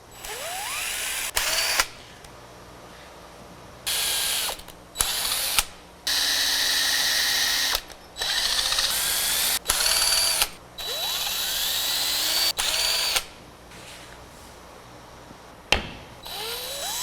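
A drill boring into a wooden mirror frame piece in bursts of whining, grinding drive separated by pauses and small clicks, close and loud, with no one talking.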